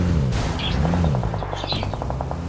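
Gunfire from a hillside near Rujok, a rapid regular burst of shots sounding distant over a low rumbling engine-like background, with faint bird-like chirps.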